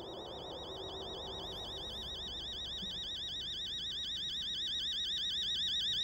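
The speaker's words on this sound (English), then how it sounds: "That was my alarm, so that's 8:03." An alarm clock rings in the horror game Fears To Fathom, a warbling electronic tone repeating rapidly and steadily, fairly loud and alone over a low room hum.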